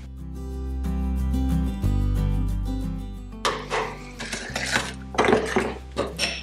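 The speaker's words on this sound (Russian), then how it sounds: "Все хорошо перемешиваем." Cottage cheese filling with sugar and vanilla sugar is stirred in a bowl, starting over soft background music and then turning into repeated clinks and scrapes of a utensil against the dish.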